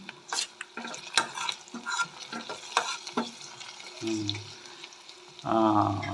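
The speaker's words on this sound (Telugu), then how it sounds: "ఉల్లిగడ్డలు బాగా వేగినాయి" Onions fry and are stirred in a pan while dried fish curry is cooked, with scattered scraping and clinking of the spoon giving way to a steadier, louder sizzle near the end.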